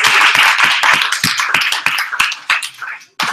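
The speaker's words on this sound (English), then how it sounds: "Another round of applause for Annabelle." Applause from a literary salon audience at a writers' festival reading, a fairly small crowd clapping close and loud for about three seconds before it thins out and stops abruptly.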